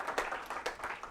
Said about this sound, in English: we have hit that goal, so round of applause